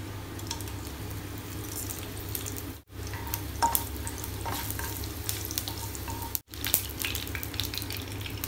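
Whole spices (fennel, cinnamon, cardamom and cloves) frying in four teaspoons of oil in a pan for mushroom gravy, giving a steady crackling sizzle with a few brief scrapes and a low constant hum beneath.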